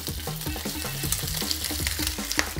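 A tequila-braised short rib sizzles in an oiled skillet over medium heat, a close, busy crackle of frying with rapid irregular pops and a faint steady hiss beneath.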